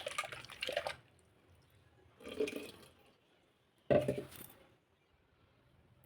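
Rinse water from a mixer jar poured into ragi dosa batter in three short splashing bursts separated by quiet pauses, close and fairly soft.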